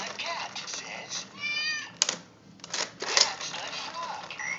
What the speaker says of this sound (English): A cat says.